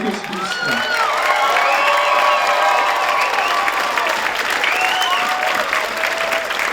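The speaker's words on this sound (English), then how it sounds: "we give them a big round of applause" A large audience applauds loudly and steadily for several seconds at a spring show choir concert, with some cheering and shouts mixed into the clapping.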